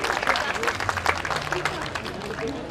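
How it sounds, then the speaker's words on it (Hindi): At a school science and culture festival, a crowd gives the children a lively round of clapping, mixed with murmured talk and a nearby voice. "एक बार जोरदार तालियां हो जाए इन बच्चों के लिए"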